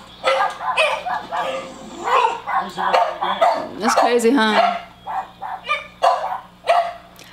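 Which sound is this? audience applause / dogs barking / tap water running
dogs barking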